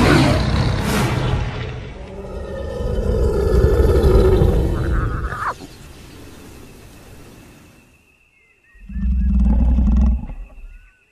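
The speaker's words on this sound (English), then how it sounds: "Another roar comes, from much closer this time." A wild lion lets out a deep, powerful roar that swells and fades over several seconds, followed after a short quiet by a second loud, low burst.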